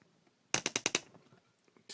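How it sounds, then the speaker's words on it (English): Five quick, sharp ratcheting clicks in a fast row as a camera tripod is tightened close by, followed by faint fiddling sounds and a brief rustle. "Pardon the noise. I'm tightening the tripod so it doesn't move."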